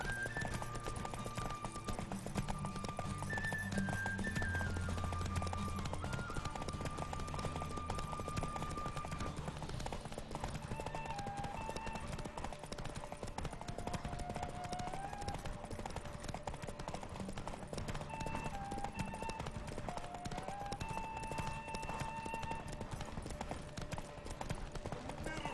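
Roach the horse galloping in The Witcher 3 during a derby race, a continuous rapid clip-clop of hooves close by over a long stretch, with music and occasional voices.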